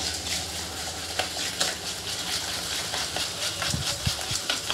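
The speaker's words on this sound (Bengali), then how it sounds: "এখন না চিনিগুলো গলে যাচ্ছে, এইভাবে ফেটাতে হয়" A whisk beats cake batter of sugar, oil and egg in a bowl, a steady close scraping and swishing that runs without pause and with no voices.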